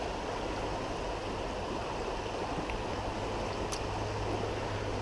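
A small creek streams along in a steady, even rush of flowing water, close and continuous with no talking.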